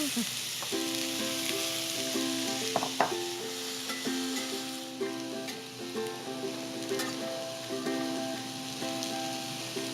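Colorful vegetables seasoned with a splash of soy sauce sizzle steadily in a hot pan, a continuous close frying hiss with scattered pops and the clink of stirring, no voices.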